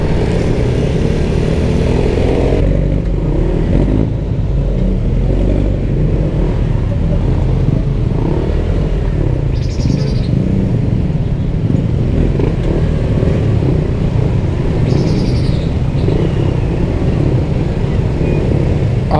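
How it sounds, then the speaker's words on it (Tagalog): Dense road traffic in Pasig, cars and motorcycles rumbling and revving continuously nearby, with occasional horn toots and no break in the steady roar. "Ang traffic na ng Pasig ngayon, punong-puno na ng sasakyan."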